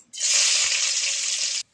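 A sudden loud sizzle of onions hitting hot oil in a pan on a clay stove, steady hissing for over a second, then cutting off abruptly.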